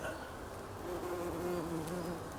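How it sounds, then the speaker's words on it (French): A bumblebee buzzes among wildflowers in a dry natural meadow on chalky soil, a low steady droning hum close by that swells slightly as it moves, heard alone. "Donc encore un bourdon"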